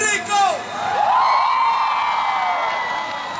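Concert crowd at a show in Lima, Peru, cheering and whooping in a sustained loud roar with shouts rising over it, the noise holding steady before tapering a little.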